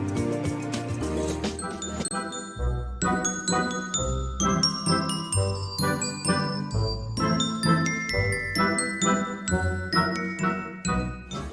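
Bright tinkling chime melody, a series of bell-like dings and clinks ringing steadily and loudly with no voices.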